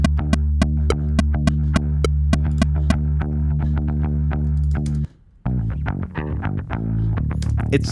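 Down-tuned bass guitar plugged straight into a preamp, playing loud, distorted, sustained low notes with sharp repeated picked attacks, a brief cut to silence, then more gritty chugging notes.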